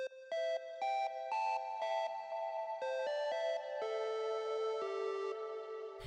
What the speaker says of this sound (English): you stack on top of that reverb an echo, a tape delay, and then finally a long form reverb that really washes everything out